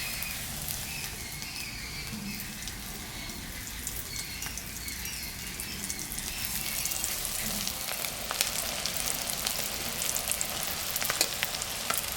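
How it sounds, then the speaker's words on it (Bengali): Tender-coconut dab fingers coated in egg and flour deep-fry in a pan of oil with a dense, continuous bubbling sizzle. It holds steady and close for the whole stretch and grows slightly louder toward the end, with no voices. "ভাজা হয়ে গেছে, আমি তুলে নিলাম"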